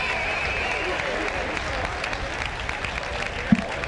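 Steady round of applause from spectators at a 2012 WIAA 4A/3A/2A state high school track and field championship evening session, a broad even wash of clapping throughout with a faint distant crowd murmur and one brief thump near the end.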